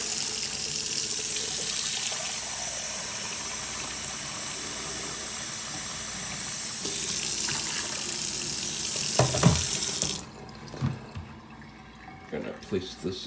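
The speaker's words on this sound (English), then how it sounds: "I'm going to need 2 pints hot water." Hot water running from a kitchen tap into a basin for cooking rice, a steady broadband rush for about ten seconds that cuts off, followed by a few faint clunks and drips.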